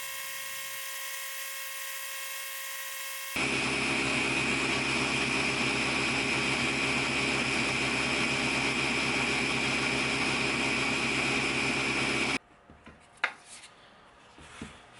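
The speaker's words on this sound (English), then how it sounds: "I'm using a 400 grit belt here just to give it a nice little smooth edge and polish on the outside" A belt sander with a 400 grit belt whines steadily, loud and close, as it smooths and polishes a Kydex sheath edge, then stops abruptly, leaving faint clicks and handling noises.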